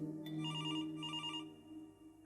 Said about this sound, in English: Is the phone actually ringing?